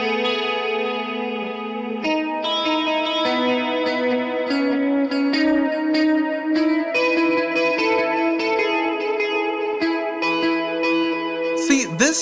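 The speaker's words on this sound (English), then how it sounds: "See, this sounds more like a chorus than the chorus does." Electric guitar through an M-Vave Blackbox multi-effects unit on a stock preset, shimmering chorus-like modulation with echo over a steady run of picked notes and chords, close and loud, no talking.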